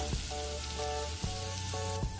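Farofa sizzling in butter in a pan, a steady close frying hiss with a low hum and faint periodic tones in the background, no talking.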